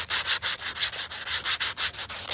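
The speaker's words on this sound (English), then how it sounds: "I'm going to take my sandpaper that I just took off and use it to" Worn sandpaper rubbed against a fresh sheet of 120-grit sandpaper to scuff it, a quick run of about a dozen rhythmic back-and-forth rasping strokes, close and clear with no talk.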